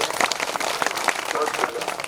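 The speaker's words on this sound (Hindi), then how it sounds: "जोरदार ताली बजाओ" A crowd at a Gayatri Pariwar community function claps to honour a donor, producing a brief burst of scattered claps with a voice talking over it.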